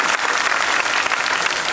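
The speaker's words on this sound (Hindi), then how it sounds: "तालियां, तालियां" Dense, steady applause from a crowd at an outdoor political rally under hot sun, loud and continuous for its whole short length with no voices over it.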